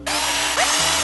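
A power drill or screwdriver whirs steadily while backing out two screws from an AM6 moped engine during clutch work, one continuous close, loud whine lasting about a second with a brief pitch shift midway.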